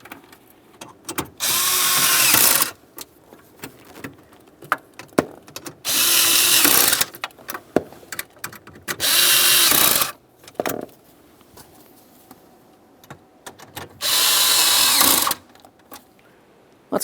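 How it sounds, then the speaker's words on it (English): A power tool runs in four short bursts, each about a second long, tightening the steering column mounting bolts on a 2001-2005 Ford Explorer Sport Trac, with quiet clinks and handling noises between the bursts. "we'll snug all 4 of the lower bolts"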